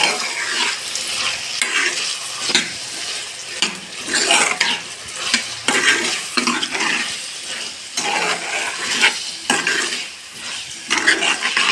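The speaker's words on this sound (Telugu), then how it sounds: "నీట్గా బాగా ఈ ఐటమ్స్ అన్నీ కలిసిపోయే విధంగా కలుపుకుంటుంది" A spoon stirs and mixes masala in a sizzling cooking pan, making repeated scraping and clattering strokes in an uneven rhythm over a constant frying hiss, close up with no talking.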